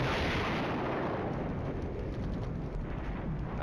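Distant rumbling artillery and gunfire in the Flashpoint Campaigns Red Storm wargame, a continuous low booming wash without distinct individual shots, no talking.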